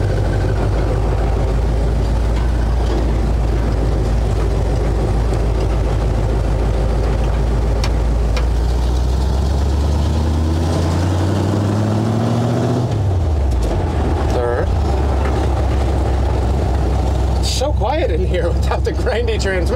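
A 1964 Ford F100 pickup with a freshly swapped, grindy transmission drives steadily with a loud low engine drone, revs dropping and rising through a gear shift, while someone talks over it.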